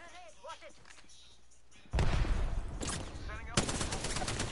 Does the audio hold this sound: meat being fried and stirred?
no